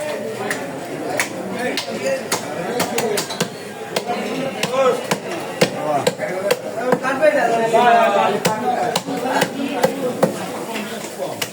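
A large boal fish being chopped at a live fish market: repeated heavy cleaver thwacks land in an irregular rhythm, close and loud, amid ongoing talk and market bustle.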